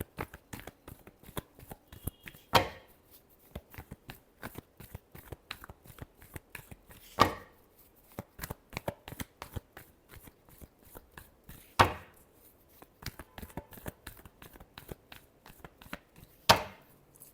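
Tarot cards shuffled by hand, soft scattered rustles and flicks punctuated by four sharper slaps spaced a few seconds apart, close and quiet.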